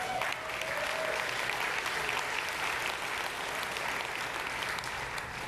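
Listeners at a Bioneers talk break into sustained applause, a dense, even clatter of many hands that stays strong throughout.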